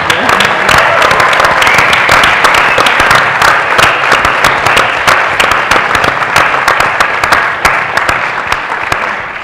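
Sustained audience applause fills a college event hall at Gettysburg College, dense and loud clapping from many hands continuing steadily throughout without pause.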